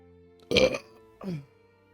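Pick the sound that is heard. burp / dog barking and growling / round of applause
burp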